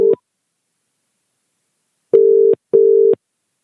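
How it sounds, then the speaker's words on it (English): Electronic telephone tones while placing a call: one short beep, a pause of nearly two seconds, then two longer evenly spaced beeps, loud and clean against silence. "We'll do this phone call to Bingo"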